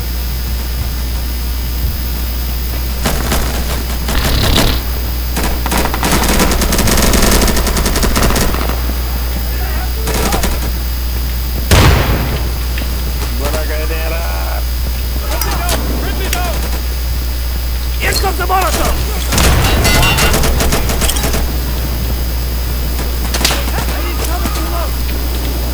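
Automatic gunfire and grenade launcher blasts from the Insurgency video game, with dense bursts and sharp booms throughout over a steady low hum, while someone talks and exclaims at times.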